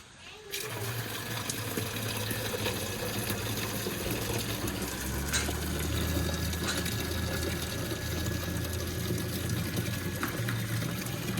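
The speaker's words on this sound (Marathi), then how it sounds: "कॉईन आले डायरेक्ट पाणी येते" A coin-operated water dispensing machine runs with a steady pump hum and a continuous stream of water gushing out, loud and close, starting abruptly and holding even throughout.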